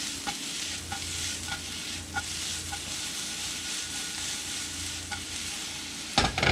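Beet greens and mushrooms sautéing in a pan, a steady sizzle and hiss with soft repeated scrapes and taps of a utensil tossing the food, closing with a louder clatter.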